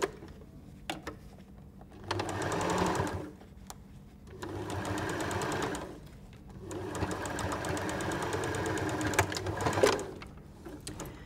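A sewing machine stitches a seam on a fabric egg cosy, running in three bursts of rapid, even close-up whirring, each a couple of seconds long, separated by quiet pauses.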